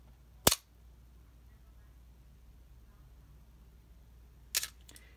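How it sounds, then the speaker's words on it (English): A Canon A1 camera shutter firing at slow shutter speeds, giving a sharp click, about four seconds of quiet, then a second click with a brief rattle, close and isolated. "as we go into the slower shutter speeds, I'm going to demonstrate all of them"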